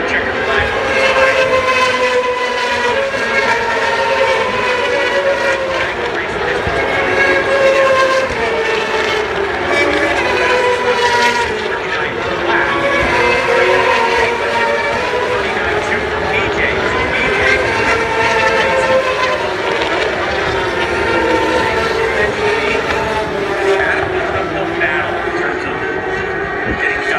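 Yamaha R6 race motorcycles at Sonoma Raceway accelerate out of the final corner with a continuous high, wavering engine whine that stays steady and loud throughout, with a commentator talking over it.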